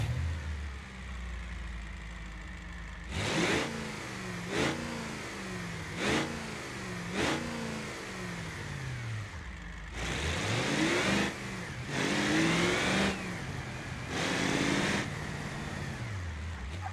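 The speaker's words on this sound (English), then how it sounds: "So let's just start this one." Simulated 6-liter diesel V8 in a Gavril truck from a driving video game, cold-starting and then revving in a series of sharp bursts, several short blips followed by longer, louder runs with no talk.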